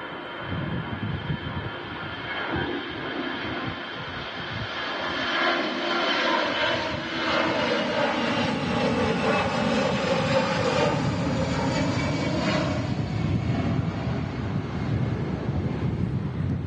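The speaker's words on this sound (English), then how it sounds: "lining up behind it in the Star Alliance scheme is the A319 Lufthansa from Munich" A Lufthansa Airbus A319 jet lines up at Manchester Airport during stormy, gusty weather, its engines giving a continuous rumbling roar that builds and holds steady, with wind buffeting the microphone.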